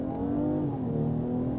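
A tuned BMW 545e hybrid G30 accelerating hard toward the red line on a closed road, a loud, steady engine roar rising in pitch from the cabin.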